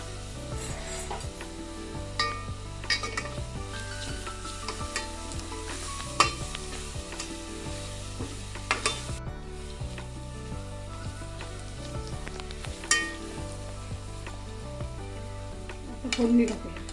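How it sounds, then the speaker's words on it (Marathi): Fish sizzles and spits in hot oil with fried garlic tempering, a steady close frying hiss with scattered louder pops and occasional stirring scrapes, no talking. "आता लसूण परतून झाला की मच्छी फोडणीला देऊ."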